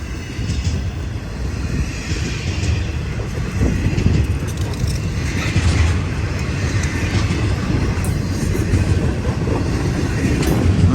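A westbound BNSF intermodal freight train rolls past outdoors on a sunny day, a steady loud rumble of wheels and railcars with faint clickety-clack throughout.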